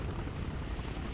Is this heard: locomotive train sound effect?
no